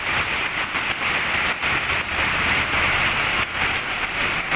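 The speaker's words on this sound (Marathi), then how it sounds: "किती मोठा पाऊस आहे बघा सकाळपासून असा पाऊस चालू आहे" Heavy monsoon rain pouring steadily in Kerala, a dense continuous hiss and roar with no voices.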